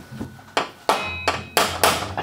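A hammer striking a metal punch in a workshop, giving about six sharp metallic taps in an uneven rhythm, close and fairly loud.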